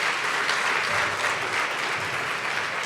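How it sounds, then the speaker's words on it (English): An audience at an entrepreneurship event claps steadily for a speaker, a dense, even wash of applause from a full room that holds at constant volume. "Can we give Stephen a round of applause?"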